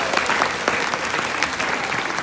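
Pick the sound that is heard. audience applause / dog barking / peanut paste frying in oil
audience applause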